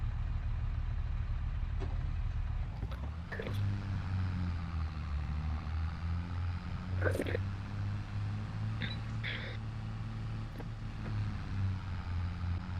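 A tractor engine in the video game Farming Simulator 22 drones steadily at low pitch for the whole stretch, with a few clicks and short mechanical knocks over the constant hum.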